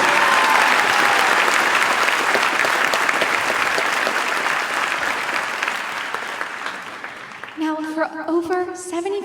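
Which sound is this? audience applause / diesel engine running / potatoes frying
audience applause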